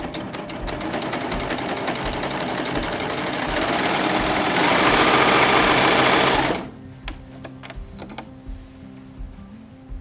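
An air-threading serger stitches fabric at a steady, rapid, loud clatter for about six and a half seconds, then stops, leaving only faint handling clicks and rustles.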